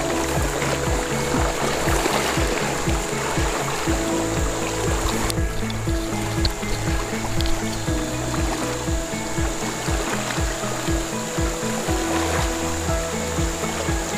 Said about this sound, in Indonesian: kita harus melewati atau menyeberangi arus sungai ini